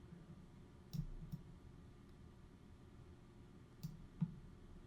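Computer mouse clicking during Photoshop editing, a few faint, sharp clicks in two pairs against quiet room hiss, no talking.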